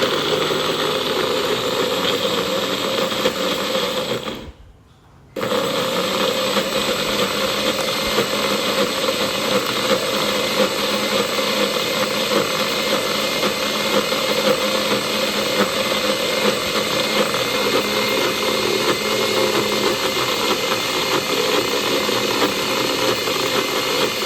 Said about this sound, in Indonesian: Oke, sekarang kita blender dulu bumbunya ya